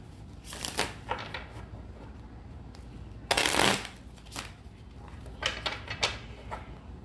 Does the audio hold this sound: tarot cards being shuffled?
yes